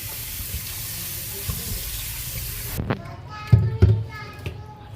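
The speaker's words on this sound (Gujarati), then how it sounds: "હવે આપણે એને બે ત્રણ પાણીથી સાફ ધોઈ નાખશું" Steady running water from a tap with splashing, followed by a few clattering knocks and sloshes as potatoes are rinsed in a vessel.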